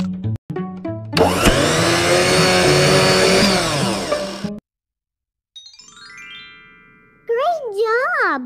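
A cartoonish blender whirs loudly for a few seconds while blending fruit into a smoothie, followed by bright synthetic chimes and bouncy sound effects.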